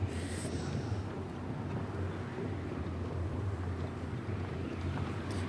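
Steady wind blowing through a game environment in Banishers: Ghosts of New Eden, a constant low rushing roar with a faint high whistle near the start and no pauses.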